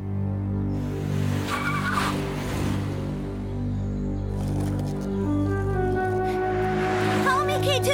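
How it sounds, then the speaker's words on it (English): Cartoon car pulling away with tyres skidding and squealing, sustained engine roar over cartoon music, loud and close with a sharp screech near the end. "That's my mom's car."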